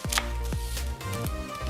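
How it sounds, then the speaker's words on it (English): A knife chops an onion on a cutting board in a home kitchen, making about four sharp, spaced strikes over a steady background hum. "we're going to start by chopping this onion right here"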